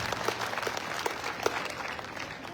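Scattered clapping from a modest crowd, uneven individual claps rising and falling over a couple of seconds, fairly close and moderately loud.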